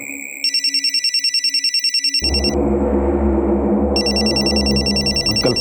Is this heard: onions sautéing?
no